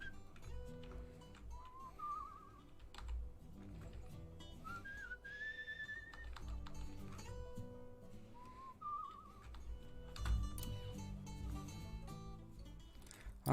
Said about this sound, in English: How do I whistle?